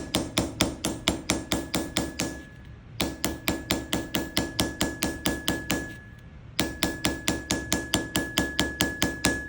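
A hammer strikes a Disston 22-inch steel panel saw plate in fast, regular, ringing blows, each with a bright metallic tone, in three runs separated by brief pauses, loud and close.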